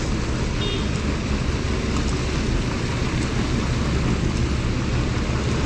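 Heavy rain pours steadily in Kashmir, a constant broadband hiss with a low rumble underneath, loud and unbroken throughout, with no voices.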